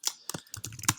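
Quick, close computer keyboard typing of Java code, a brisk run of crisp individual key clicks with uneven rhythm and no talking.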